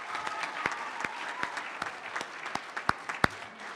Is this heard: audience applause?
yes